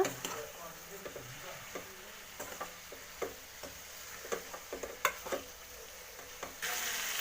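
Pepper chicken masala with pepper and cumin powder being stirred in a pan makes a soft sizzle under scattered spoon clicks and scrapes, fairly quiet throughout.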